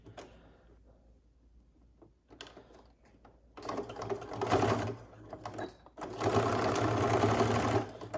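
A sewing machine stitches a plain half-inch seam in faux fur with a Teflon foot, starting with slow hesitant stitches, then two loud sustained bursts of rapid whirring close by, with no talk.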